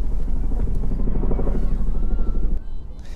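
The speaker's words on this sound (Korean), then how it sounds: "헬리콥터가 지나가고 있어요 지금." A helicopter passes overhead with a loud, steady, throbbing rotor drone that fills the scene, then drops away abruptly near the end.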